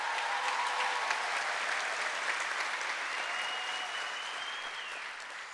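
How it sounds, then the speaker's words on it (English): Applause for graduating high school students at an Arlington College and Career High School graduation ceremony, a dense, sustained clapping from a large audience that holds steady and slowly fades, with no speech over it. "Let's give them a round of applause."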